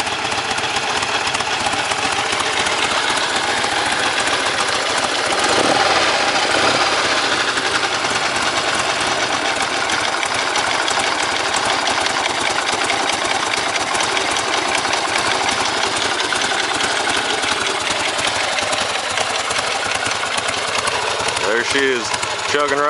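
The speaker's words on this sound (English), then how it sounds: "It's not real warm, so once it warms up, I can turn the idle down a little bit" A 1977 Harley-Davidson Ironhead Sportster with a 2-into-1 exhaust idles close by on a cold engine, a loud, steady, uneven chugging throb that continues unbroken from start to finish.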